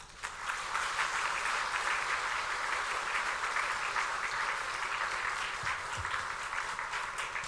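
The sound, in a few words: congregation applause welcoming the pastor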